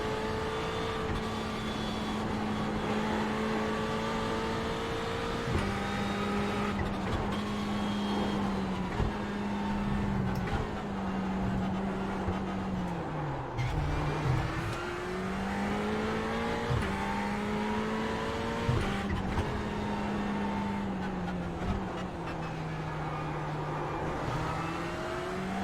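Sustained race car engine drone from iRacing at the Bathurst circuit, loud and continuous, with pitch climbing and dropping through repeated gear shifts and braking zones, no voices over it.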